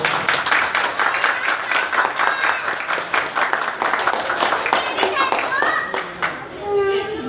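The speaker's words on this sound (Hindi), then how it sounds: "सोनिया मैम के लिए जोरदार ताली होनी चाहिए।" An audience at a group meeting in Vatva, Ahmedabad claps steadily for Sonia ma'am, with dense, lively hand claps running the whole time and voices talking and calling out over them.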